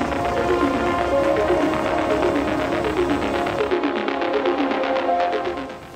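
A PistenBully 100 E electric snow groomer, driven by three electric motors, runs with a loud continuous whirring hum that takes on a faint rhythmic throb before easing off at the end.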